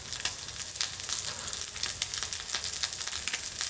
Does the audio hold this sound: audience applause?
no